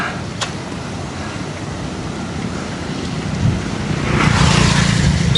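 Strong outdoor wind gusting steadily near the microphone in rural Vietnam, a broad loud roar that swells in the last seconds, with no voices.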